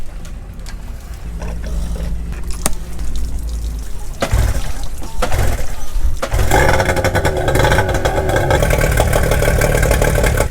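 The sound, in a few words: outboard boat motor starting and running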